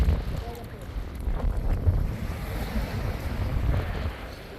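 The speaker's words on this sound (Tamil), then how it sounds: "காற்று சத்தம் தான் எப்படி கேட்குன்னு தெரில" Steady wind roars and buffets the microphone on a fishing boat at sea, a dense low rumble with gusts and no clear voices.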